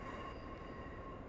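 A Class 143 Pacer railcar rolls slowly toward the station in Train Simulator 2020 on the Riviera Line, a short, low, continuous rumble with no talking.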